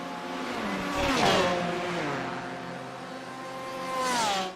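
LMP2 and GTE race cars in a Le Mans racing video game, with high-revving engines that rise and fall through gear changes as cars close in and pass, loud and continuous.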